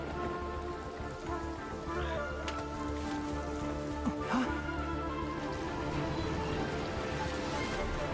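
Rain falls in the Genshin Impact video game as a steady, soft hiss of drops on surfaces, with a few sharper isolated patters and faint low rumbles underneath.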